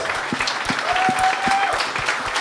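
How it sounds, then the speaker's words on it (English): A convention crowd at a gaming show event gives the staff a warm round of applause, continuous dense clapping with a few sharper claps near the front and a faint tonal whine running briefly underneath. "a big round of applause to the staff, please."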